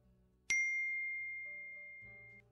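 A phone's text message notification gives a single clear ding that rings out and fades slowly over about two seconds, against a quiet background.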